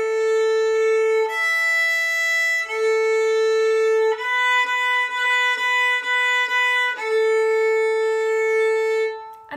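A violin plays the simple Seesaw Song in 3/4 time, with long sustained bowed notes alternating with shorter repeated notes in a steady triple pulse, solo and clear with no voices.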